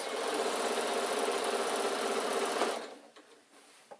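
A sewing machine stitches an insulated picnic bag in a fast, even, close mechanical whir for almost three seconds, then stops, leaving faint handling sounds.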